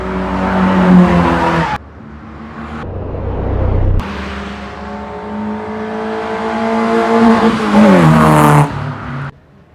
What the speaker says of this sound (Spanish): aquí les vamos a mostrar una toma del carro pasando para que vean cómo cruza